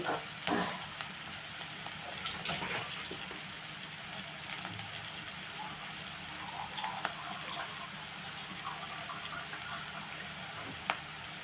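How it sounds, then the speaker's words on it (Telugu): A prawn and gongura curry sizzles in the pot after half a glass of water goes in, giving a steady bubbling hiss with small pops and a few light clinks. "అర గ్లాస్ వాటర్ వేసాను"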